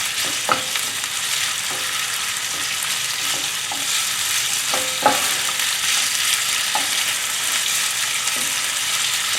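Chicken sizzles and crackles steadily as it stir-fries in a hot pan, with occasional light clinks and scrapes from stirring throughout.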